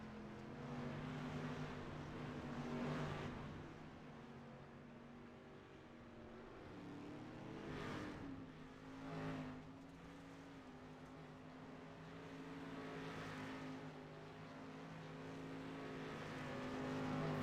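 A dirt street stock race car at Charlotte rolls out onto the track, its engine a steady low drone with a few brief surges of revving, heard at moderate distance.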